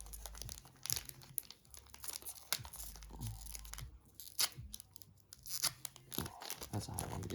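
A foil wrapper on a My Hero Academia trading card pack crinkles and tears in repeated close bursts, with pauses between rustling pulls and faint low thumps underneath.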